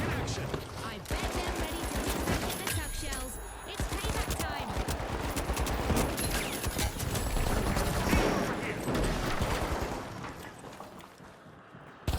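Lewis gun machine gun in The Finals, firing in long rapid bursts that run nearly the whole time, with other game noise and someone talking over the gunfire.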